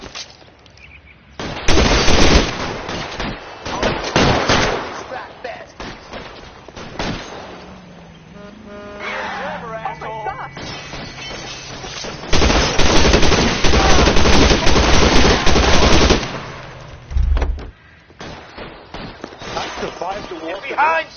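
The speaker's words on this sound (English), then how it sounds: "Lay down some covering fire!" Loud, sustained bursts of rapid gunfire fill a shootout in the video game L.A. Noire, with shouting voices and a stretch of quieter talk between two long volleys.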